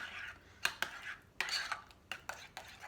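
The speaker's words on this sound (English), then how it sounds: "I'm just going to mix the eggs into my cottage cheese or my ricotta" Eggs being mixed into cottage cheese or ricotta in a bowl: a series of quick utensil clinks and scrapes against the bowl, soft and close, in an irregular stirring rhythm with no talking.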